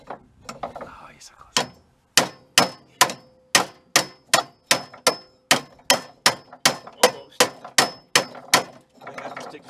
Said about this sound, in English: Which we're going to have to hit with our wonderful hammer.